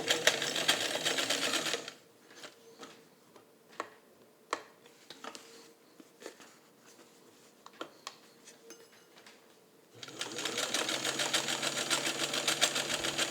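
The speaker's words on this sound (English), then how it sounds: "And you'll notice I'm sewing a little more slowly." A Kenmore 117.55 rotary sewing machine slowly sews thick material, with a steady mechanical whir at the start and end and a stretch of quiet clicks and ticks between.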